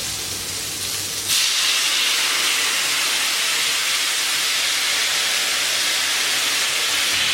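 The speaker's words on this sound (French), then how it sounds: "on va baisser la température et puis on va verser le marsala" Marsala wine hits a hot pan with a sudden loud burst of sizzle that settles into a steady, bright hissing steam, close up and alone.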